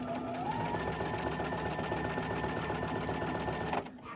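A sewing machine stitches quilt pieces together in a fast, steady, close mechanical whir with rapid needle ticks, stopping abruptly near the end.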